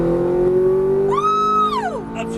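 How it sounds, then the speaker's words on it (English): A Ferrari F430 on a racing circuit, its engine droning steadily and then climbing sharply in pitch under full throttle before dropping back as it shifts, loud and close. "Start squeezing hard on that throttle. Foot on the floor."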